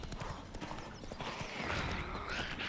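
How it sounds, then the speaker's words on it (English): A spooked horse in the video game Witcher 3 clops its hooves in a quick, close rhythm, with a brief agitated whinny rising in the second half, loud and without speech. "Spooking my horse."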